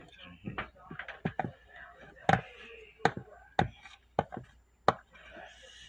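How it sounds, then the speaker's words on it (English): Brownie cookie dough scraped by hand in a home kitchen, a series of sharp, close scraping and tapping strokes in an irregular rhythm with soft talk in between. "And you gotta like scrape it like this."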